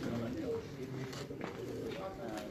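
Breeder pigeons coo softly on a Pakistani rooftop loft, with low repeated calls under nearby conversation.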